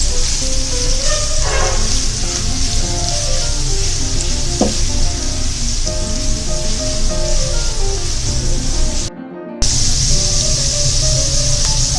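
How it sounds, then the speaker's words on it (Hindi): Carrots and capsicum fry in a pan for chicken chowmein with a loud, continuous sizzle and a few stirring clatters, cutting out briefly near the end. "गाजर और शिमला मिर्च थोड़ी सी, इन्हें थोड़ा सा फ्राई करना है"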